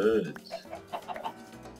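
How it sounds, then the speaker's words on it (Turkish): Soft Minecraft chicken clucks come in short bursts, fairly close and modest in volume, with a brief louder squawk at the start. "tavuk tavuklar"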